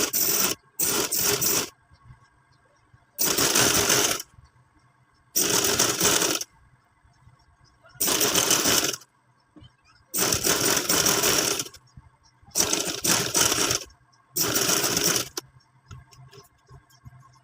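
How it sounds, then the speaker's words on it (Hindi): A sewing machine stitches lace onto fabric for a suit in repeated whirring bursts of about a second each, with short quiet pauses between, close and clear. "सीधी सीधी साइड कपड़े के ऊपर रखेंगे और फिर इसकी सिलाई लगाते जाएंगे"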